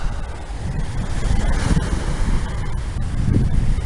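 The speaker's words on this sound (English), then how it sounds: "Beautiful breeze coming off the ocean." Ocean breeze buffeting the microphone with waves washing in, a continuous rushing and gusting roar close and fairly loud, no voices.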